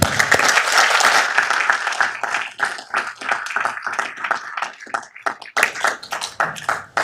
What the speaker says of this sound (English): One last round of applause for him.